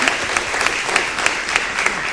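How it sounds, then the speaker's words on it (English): An audience at a mayoral debate in Harrisburg, South Dakota applauds itself, with brief dense clapping broken by a few sharper individual claps that stand out. "Give yourselves a big round of applause."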